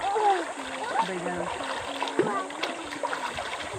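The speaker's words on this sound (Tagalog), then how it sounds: "Dito kami sa ilog naliligo sa probinsya" River water splashes and churns nearby with a steady rushing hiss as people bathe, while voices call out over the top.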